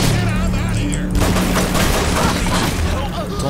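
Loud, dense gunfire and explosive bursts in a video game, continuous for a few seconds with someone talking over it.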